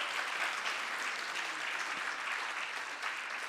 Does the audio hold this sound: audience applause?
yes